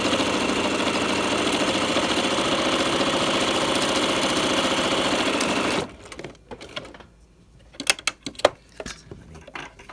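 A sewing machine stitches an overlap seam through layers of sheer fabric, a steady loud whirring drone for about six seconds before it stops. Short knocks and handling sounds follow.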